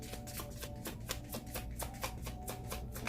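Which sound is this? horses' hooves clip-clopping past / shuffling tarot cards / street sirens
shuffling tarot cards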